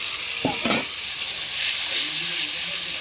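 Spice paste for macher jhol frying in a pan as water is poured in, a sharp splash and burst of sizzle followed by a steady loud hiss of steam and bubbling.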